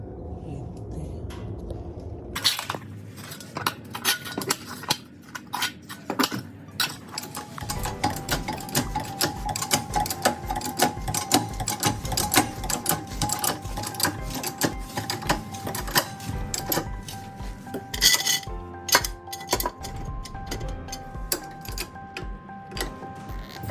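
An impact wrench or air tool spinning off the lug nuts of a Chevy Equinox wheel, rapid loud rattling bursts repeated over about twenty seconds with brief pauses between.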